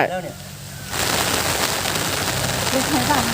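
Rain falling steadily outdoors, a dense hiss of drops starting abruptly after a brief quieter moment, loud and continuous.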